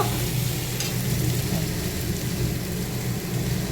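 Leafy greens frying in oil in a kadai (wok), a steady dense sizzle that holds evenly throughout at moderate loudness, with no talking.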